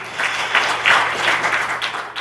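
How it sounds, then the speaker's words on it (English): A crowd applauds loudly and continuously, the clapping thick and even from start to finish. "Give yourselves a big round of applause."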